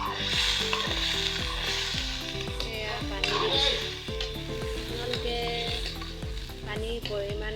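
Mutton curry sizzles loudly in a pan as water is poured in, a steady hiss and crackle with stirring and clinking of a utensil throughout, no voices.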